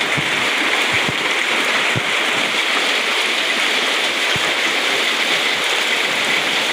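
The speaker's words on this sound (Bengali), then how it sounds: "দেখো অনেক জোরে বৃষ্টি হচ্ছে সকাল সকাল।" Heavy morning rain pours steadily and loudly as a broad, continuous rush, with a few faint low thumps scattered through it and no one speaking.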